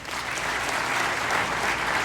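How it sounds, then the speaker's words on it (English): An audience at a gospel quartet concert clapping their hands, a thick continuous roar of applause that swells slightly and holds steady, with no talking over it. "Clap your hands."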